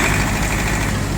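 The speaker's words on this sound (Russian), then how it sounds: "Работает двигатель очень и очень приятно" A Mitsubishi MT23 mini tractor's diesel engine idles steadily up close, a loud, even low rumble with a constant throb and no talk over it.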